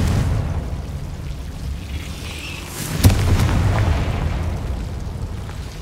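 A Confringo fire spell in Hogwarts Legacy, a single muffled booming blast with a brief bright burst rising out of a low rumbling game background.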